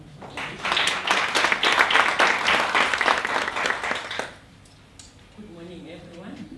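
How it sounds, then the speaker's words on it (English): An audience at a reunion welcome breakfast applauds, a loud, dense burst of clapping lasting about four seconds that then cuts off, followed by a voice beginning to speak. "Please give yourselves a round of applause."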